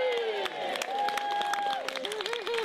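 An audience claps and cheers for a band after a performance, a dense wash of applause with scattered sharp claps, mixed with lingering sustained musical tones.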